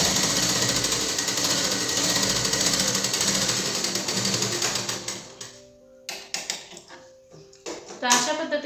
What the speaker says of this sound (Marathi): या पद्धतीने तुम्हाला ॲक्सिलेटरचा शिलाई मारायची आहे सरळ लाईनमध्ये।